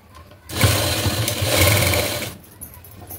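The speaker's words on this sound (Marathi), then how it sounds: "मग अशा वेळी अशी या पद्धतीने अशीच कडेने टिप मारून घ्यायची." Sewing machine running a seam along the edge of a blouse: one loud, close burst of rapid mechanical stitching lasting about two seconds, then stopping, with faint handling sounds before and after.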